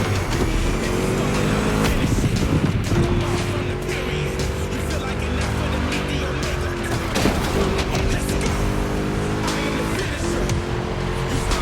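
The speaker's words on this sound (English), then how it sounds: "Just listen to that V8 like a chunky, down-tuned guitar riff" A V8 muscle car engine in The Crew Motorfest racing game, a steady, loud, chunky drone that rises and falls with throttle across the whole stretch, continuous and up close.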